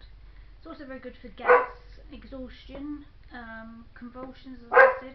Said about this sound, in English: that is my dog barking, who keeps barking at the door